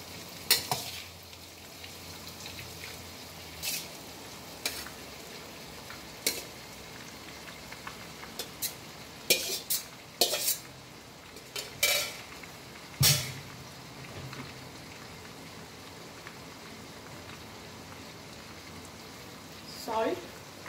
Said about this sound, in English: Then I'm adding pasta.